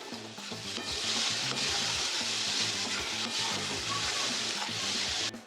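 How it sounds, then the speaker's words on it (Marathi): Chopped onion sautéing in a pan for a prawn hariyali dish, a steady close sizzle with frequent stirring scrapes in a regular rhythm, loud and continuous with no talk. "हा छान आपण परतून घ्यायचा आहे. थोडा ब्राऊन करायचा आहे, जास्त नाही"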